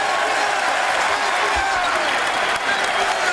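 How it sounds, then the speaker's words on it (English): Crowd noise from a men's college basketball game between Seton Hall and Rutgers after a foul is called, a dense, steady wash of applause and cheering that holds loud throughout with no breaks. "the reason the crowd is so excited"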